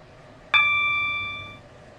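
In the Stepford County Railway video game, a single bright station chime rings out sharply and decays over about a second, above a faint low rumble from the train as it approaches Stepford UFC.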